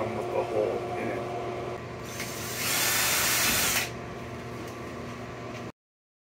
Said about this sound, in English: This is going to be where you're going to drill into the connector so you can attach it with a screw.